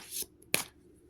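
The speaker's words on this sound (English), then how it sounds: "As I shuffle the deck" Golden Art Nouveau tarot deck being shuffled by hand, with two short papery riffles of the cards, one near the start and one sharper burst about half a second later, close and fairly quiet.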